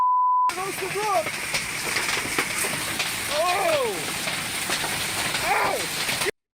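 Hailstones pelting down hard during a sudden storm, a dense continuous rattling roar that runs for several seconds, with faint whistling tones and a brief beep at the start before it cuts off abruptly.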